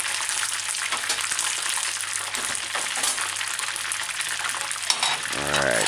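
Chicken pieces frying in hot oil for crispy fried chicken, a loud continuous crackling sizzle with occasional pops and a brief metallic clink near the end.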